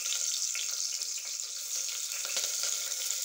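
Onion and curry leaves fry in hot oil with a bright, dense, continuous sizzle and faint stirring clicks, close and steady throughout, with no talk.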